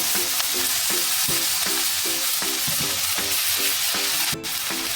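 Washed, chopped fenugreek leaves stirred in a frying pan with chili and garlic for a Marathi methi bhaji, a continuous loud sizzle broken by regular rhythmic scrapes of the spoon against the pan.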